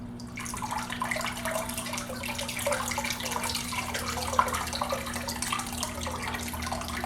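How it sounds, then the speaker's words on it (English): Water pours steadily out of a Sunsun HW-303B canister filter, a continuous close splashing rush over a low steady hum, without pause for several seconds. "that's quite a flow of water coming out there"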